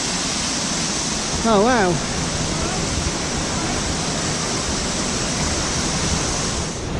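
A small waterfall on a hiking trail gives a steady, broad rushing of water throughout. It is fairly close and constant, and a person briefly exclaims over it.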